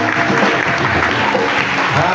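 A church congregation at a fasting and prayer service claps steadily, with a continuous dense wash of applause filling the room at an even, fairly loud level.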